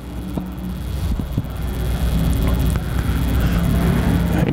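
IMCA stock car qualifying at Arizona Speedway, a lone car's engine droning and rumbling steadily around the track, growing slightly louder over several seconds with a constant background hum.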